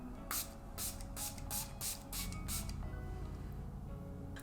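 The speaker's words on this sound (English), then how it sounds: "This is the brightening facial mist with vitamin E and C." A brightening facial mist with vitamins E and C is sprayed from a pump bottle. Seven or eight quick, soft hissing puffs come in a fairly even rhythm, close and quiet, then stop, with no talk over them.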